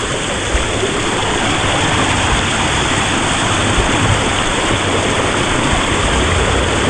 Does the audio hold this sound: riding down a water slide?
yes